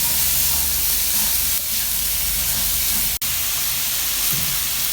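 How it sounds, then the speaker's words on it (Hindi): Radish with spices roasting in a pan for a mooli paratha, a steady broad hiss of sizzling that holds throughout with one brief sharp cut. "दो मिनट हो चुके हैं हमें मूलियों को भूनते हुए।"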